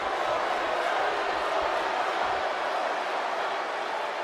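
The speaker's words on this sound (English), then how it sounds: "The crowd's cheering for you." Crowd cheering at a televised wrestling match in WWE 2K23, a broad steady roar that holds at the same level and stays continuous throughout.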